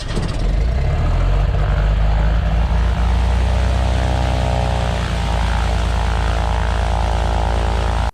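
A small propeller airplane's engine runs loud and close, a steady droning roar with a low propeller thrum that holds throughout, with no voices.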